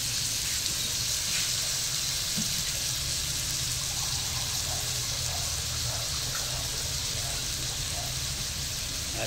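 Water poured into a frying pan while estopado cooks, a steady broadband rush and gentle sizzle running evenly without pause, fairly close and moderately loud.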